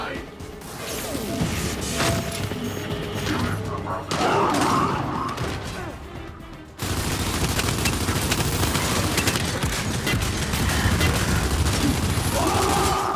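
Gunfire from the video game Gears 5 rattles in dense bursts with crashing impacts and mechanical clatter, loud and nearly continuous across the stretch, with game voices mixed in.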